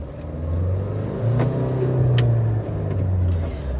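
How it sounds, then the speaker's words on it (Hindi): A Mahindra Thar 1.5-litre diesel engine revs up from a low rumble into a rising, throaty drone as the SUV accelerates, close and steady. "वो डीजल वाला जो थंप है ना वो यहाँ पे दिख रहा है।"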